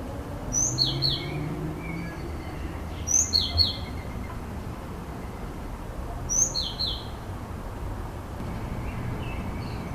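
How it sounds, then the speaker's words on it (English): Starlings call at normal speed, with three bright, sharp bursts of whistles and chirps spaced a few seconds apart over a steady low background hum. "Starlings make a vast array of sounds, so let's hear them at normal speed, then slow them down."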